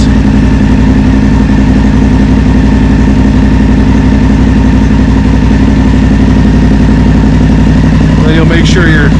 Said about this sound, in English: You're gonna let it idle for about 10 seconds.